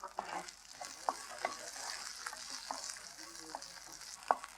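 Small shallots sautéing with lentils and coconut in a pan for a thuvayal, a soft steady sizzle with light stirring clicks, fairly quiet and without talk.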